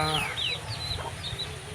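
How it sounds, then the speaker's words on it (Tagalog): Brooding hens cluck softly amid a steady farmyard hum, with a few short chirpy calls rising over low background noise. "Ito po yung mga manok natin na naglilimlim"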